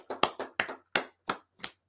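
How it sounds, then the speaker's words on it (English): About seven crisp, separate handclaps ring out for a class at a religious gathering, close and distinct with short gaps between them. "Clap it up for class, right?"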